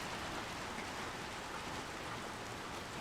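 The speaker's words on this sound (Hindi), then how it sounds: "तो बाहर बारिश हो रही है" Steady rain pours outside in the video game Little Nightmares 2, a continuous soft hiss of falling drops with no break, fairly quiet and even throughout.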